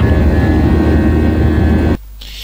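A loud, steady roar of cabin and engine noise fills a Tigerair airplane, then drops suddenly to a much quieter hum near the end.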